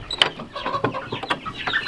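Chickens raised on pasture cluck and chatter close by in an outdoor pen, a busy, irregular mix of short calls and rustling with no talking.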